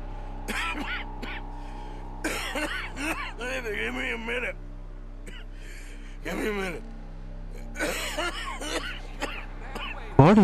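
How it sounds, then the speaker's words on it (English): A man coughs blood in Red Dead Redemption 2, with repeated wet, harsh coughs and throat-clearing bursts that come in uneven fits, close and loud over a low steady background hum. "Coughing blood."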